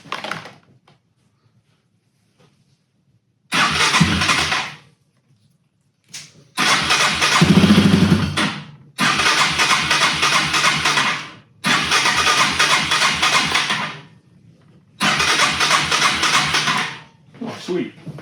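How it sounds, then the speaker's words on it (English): A Yamaha TW200 motorcycle with a charging problem cranks and fires in several separate attempts. Each is a loud, close, steady burst of engine running lasting a second or two before cutting out, with pauses between them. "Let's fire the bike up and see what we get then."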